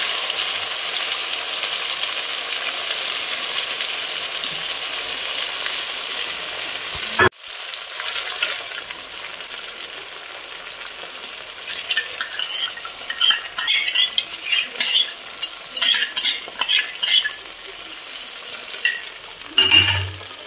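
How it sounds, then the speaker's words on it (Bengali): Tomato paste, ginger, garlic, onion and spices sizzle steadily in a pan for Bengali Bata fish curry. A utensil stirs and scrapes against the pan in irregular strokes, close and fairly loud. "টমেটো বাটা সব এক এক করে সব কষিয়ে নিচ্ছি।"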